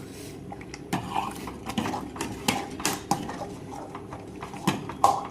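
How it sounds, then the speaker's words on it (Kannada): A spoon stirs chana dal and moong dal boiling in a pot for papad, producing irregular scrapes and clanks against the metal over a soft bubbling background, close up and without talking. "ಕುದಿದ್ನ್ಯಾಗ ತಿರ್ವ್ಯಾಡ್ಕೋತಿರುನು."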